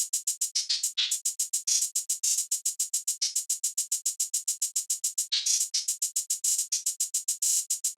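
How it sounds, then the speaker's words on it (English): Programmed hi-hat pattern from an FL Studio synth-style trap beat: crisp, bright ticks in a fast, steady grid, broken by quick rolls. It plays alone and fairly quiet. "the hi-hat pattern is sounding like this"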